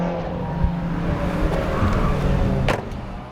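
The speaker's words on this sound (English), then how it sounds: "you probably can't really hear me over the rally cars going around right now" Rally cars roar past on a track nearby, engine noise rising and falling continuously, with a brief sharp whine near the end.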